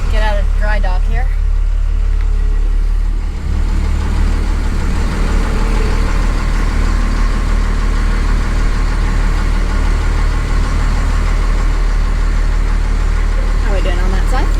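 A 1978 Dodge first-generation crew cab dually with a Cummins diesel conversion rumbles steadily at idle, a constant low engine drone running close and loud for the whole stretch, with voices talking over it.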